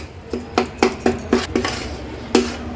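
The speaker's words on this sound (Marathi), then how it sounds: "ह्या तुपामध्येच ही केळी छान रव्यामध्ये आपल्याला एकजीव करून घ्यायची आहे" A spoon scraping and knocking against a pan while mashed bananas are mixed into semolina cooked in ghee, a run of about eight regular metallic clinks close by, with no talking.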